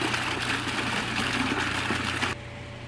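Running water of a garden fountain in a courtyard, a steady broadband splashing rush heard close and fairly loud, cutting to a quieter background hum near the end.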